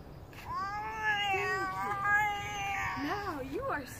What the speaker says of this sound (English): Meowing kitty will exit.